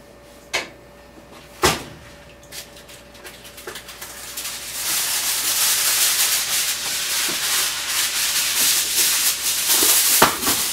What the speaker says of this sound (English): I'm going to put tin foil on it